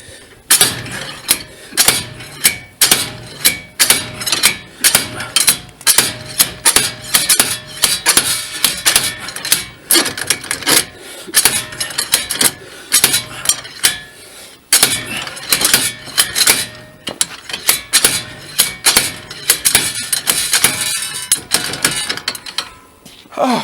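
A hammer knocking out a wheel bearing, loud rapid metallic strikes repeated in dense runs with brief pauses, close by, with occasional talk.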